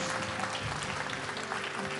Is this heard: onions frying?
no